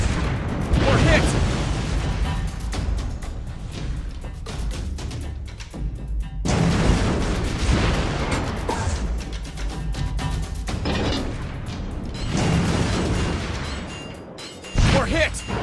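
A warship takes hits in a naval combat game, with repeated heavy booming explosions and crashing impacts rolling through continuous battle noise, loud and dense throughout, under game voice callouts.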